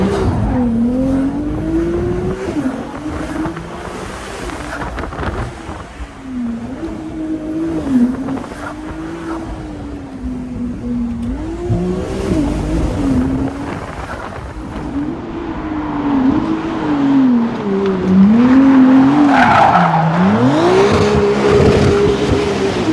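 A Porsche is driven hard through tight curves on a closed road, its engine rising and falling in pitch through each bend while the tires squeal and skid, loud and continuous with no talk.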